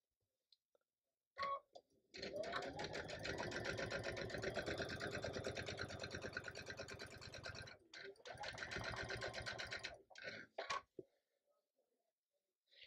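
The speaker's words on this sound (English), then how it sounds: "one more seam before I sew the rows together" A sewing machine runs in two long stretches, steadily stitching a seam through quilt fabric for a star sampler block, with short clicks and pauses before, between and after the runs.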